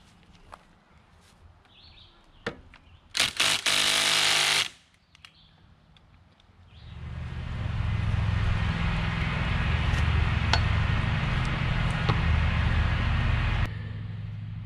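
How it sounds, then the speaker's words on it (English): Impact wrench taking 8mm bolts off a 1987 Yamaha Big Bear 350cc 4x4 ATV fires in one loud rattling burst of about a second and a half amid quiet workshop clatter, followed by a steady droning rumble. "let me go get the impact and we'll take these 8mm off"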